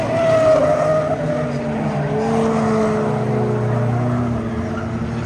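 Cars at a demolition derby, part of a Tour of Destruction event, skid with squealing tires and revving engines in a loud continuous roar that carries throughout.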